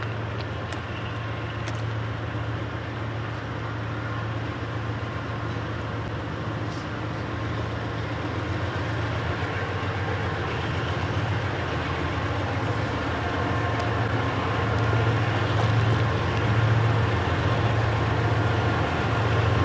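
A train rolls past LM Cabin in downtown Columbus with a continuous loud rumble and a low engine drone that builds slightly toward the end, with faint wheel clicks and no voices.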